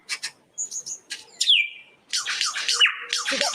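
A bird imitates a kookaburra's laughing call, giving a few short chirps and whistles and then a loud, rapid, cackling run of notes, close and clear with no talking.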